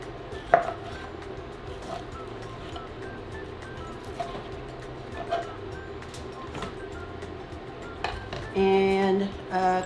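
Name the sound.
chopping peeled oranges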